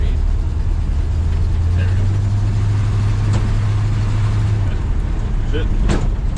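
Old Chevrolet Squarebody K10 pickup truck pulling away in snow, its engine rumbling loud and close with a low drone, while a person talks over it.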